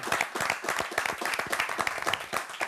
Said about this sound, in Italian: ringraziando tutti i sindaci e facendogli un bel applauso